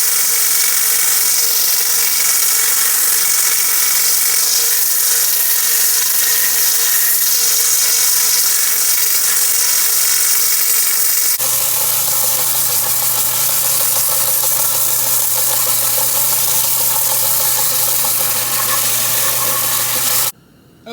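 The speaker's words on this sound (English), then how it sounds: "now I'm going to go to my belt sander and kind of smooth everything out, get the rest of the urethane coating off that" A belt sander smooths a hardwood nightstick and strips off its urethane coating, a loud continuous motorized hum and grinding with a noticeable change in pitch midway, running alone until it cuts off at the end.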